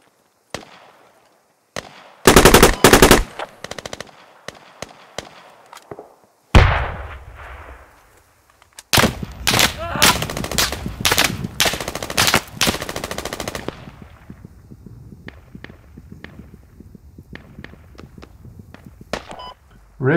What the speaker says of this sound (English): Bowfly, stop shooting at me.